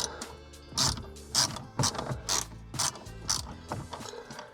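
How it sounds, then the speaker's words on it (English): A ratchet backs a 7mm bolt out of a Ford Raptor dash, its pawl clicking in five or six quick bursts separated by short pauses, close and fairly quiet. "7mm, take this bolt out up here too."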